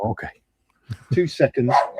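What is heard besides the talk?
dog barking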